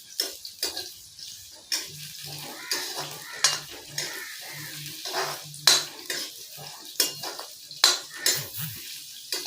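Onions sizzle in oil in a pan while being cooked for a mustard and small fish curry, a spoon scraping and clinking against the pan in irregular, close strokes over the soft frying hiss.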